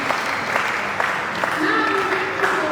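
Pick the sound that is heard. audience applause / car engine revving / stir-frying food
audience applause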